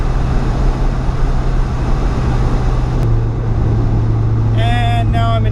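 Cheap used Mazda Miata driven fast through corners, a steady loud engine and road drone sustained throughout, with a brief higher tonal sound near the end.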